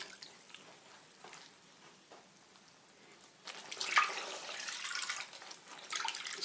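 Pillowcase being hand washed in water, starting with soft quiet splashing and swishing, then a louder, steady stretch of sloshing and rushing water in the second half.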